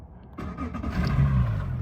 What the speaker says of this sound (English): We'll get the big engine turned on